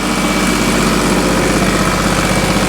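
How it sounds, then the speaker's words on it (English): Small engine running on a workshop machine that pumps oil, a loud, steady, slightly rough idle with an even low rhythmic pulse throughout and no talk over it. "the machine is running, a little bit noisy there, nice engine, nice little engine there"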